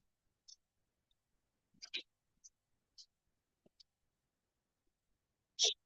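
A computer mouse clicks while MySQL Workbench is being opened from the desktop: a handful of sharp, isolated clicks, some doubled, spaced irregularly in an otherwise quiet room.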